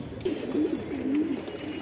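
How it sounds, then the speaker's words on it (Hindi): Pigeons sold as single birds coo softly nearby, a low rolling coo repeating in two or three short phrases over a couple of seconds, with no other sounds. "ये पांच सिंगल कबूतर है"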